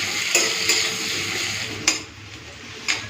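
Chopped onions and slit green chillies fry lightly in oil in a pan, a close, steady sizzle punctuated by a few sharp clinks of a stirring utensil.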